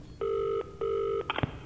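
A telephone busy signal in Secret Doctrine gives two even, loud tone beeps, each lasting under half a second, followed by a few faint clicks.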